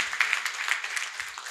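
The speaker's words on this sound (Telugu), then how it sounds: "మీ చప్పట్ల ద్వారా తనకు శుభాకాంక్షలు." An audience at a Sangeetha Nadha Dhyana Yagnam gathering applauds as a birthday greeting, a dense steady patter of many hands clapping together, fairly close and without pause.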